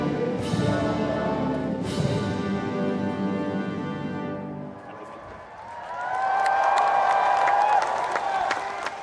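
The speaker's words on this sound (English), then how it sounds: "A spontaneous ripple of applause, and then this final flourish." A crowd gathered outside breaks into a spontaneous ripple of applause and some cheering that swells in the second half, following a sustained band passage in the first half, heard at a distance with some background voices.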